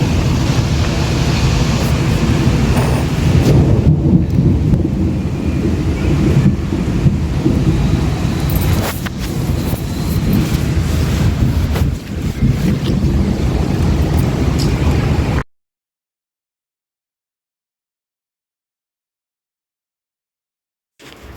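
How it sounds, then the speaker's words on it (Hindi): Monsoon-season windstorm roaring continuously with heavy rain and rumbling thunder for about fifteen seconds, loud and close, then cutting abruptly to silence. "ये देखो इस तरीके से हवा चल रही है।"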